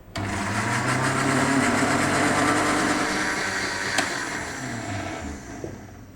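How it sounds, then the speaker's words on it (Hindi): A household juicer grinder whips egg whites for a red velvet sponge cake, a loud continuous motor whir with shifting pitch and a brief clink near the middle, with no one talking. "हम इसको जूसर में बना रहे हैं, जो कि हर घर में मौजूद होता है। इसको हमने अच्छे से ग्राइंड कर लेना है।"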